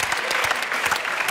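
An audience breaks into brisk, loud applause, a dense wash of many clapping hands that holds steady throughout.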